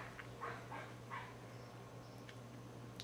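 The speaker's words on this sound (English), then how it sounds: "Roscoe's barking." A few muffled dog barks come from some distance away, short and spaced out, over a low steady electrical hum.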